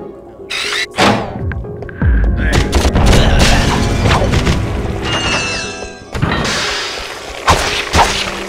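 Explosions and crashing debris in the Ratchet & Clank video game, a loud booming blast with shattering, squealing bursts that rumbles for several seconds, then a second impact near the end.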